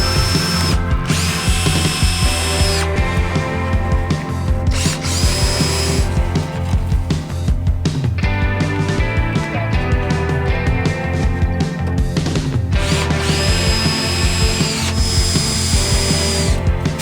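A power drill drives fasteners through wooden offcut form pieces during a stone cottage restoration, with loud, close whirring bursts of several seconds each, separated by brief pauses and repeated throughout.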